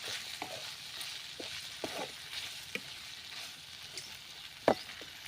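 A steady, soft sizzle of double bean vegetables sautéing in a kadhai with salt, with occasional scraping and stirring clinks from a utensil, and no voices.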